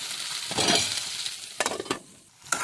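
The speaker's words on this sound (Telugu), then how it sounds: "ఈ విధంగా బెండకాయ ముక్కలు అనేవి ఈ విధంగా బాగా ఫ్రై అయ్యే వరకు ఫ్రై చేసుకోవాలి" Okra pieces fry in oil in a pan with a steady, close sizzle, broken by a few sharp scraping stirs and clinks of a spoon against the pan.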